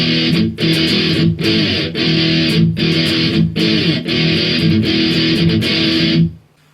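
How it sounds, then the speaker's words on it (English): Distorted electric guitar plays the bridge of a punk song in loud, chugging strummed bursts with brief gaps between chords, ending abruptly into silence. "right from the start of the bridge, it'll sound like this."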